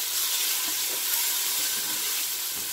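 Food sizzles steadily in a hot pan while being stirred, beef ribs being cooked for a Cuban dish with salt added; a continuous bright hiss with faint scraping, no talking.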